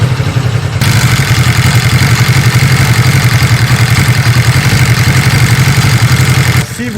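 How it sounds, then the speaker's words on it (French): Honda 125 twin motorcycle engine idling at around 1400 rpm, with a close, loud and steady low throb and a mechanical clatter that holds constant throughout. "Vous devez avoir un ralenti à 1400 tours."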